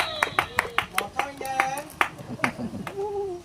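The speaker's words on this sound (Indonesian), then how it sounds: "Tepuk tangan. Tepuk tangan." Scattered hand clapping from a small crowd at a builders' training event held by a village government in Indonesia, uneven and fairly close, with voices talking over it throughout.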